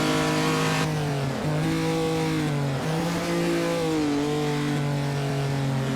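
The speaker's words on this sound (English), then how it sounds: "Such a nice car to drive, this Ferrari." A 1948 Ferrari racing car engine in Assetto Corsa during a postwar Prix de Berne race, loud and steady, its revs rising through the gears with brief dips at each shift, heard alone.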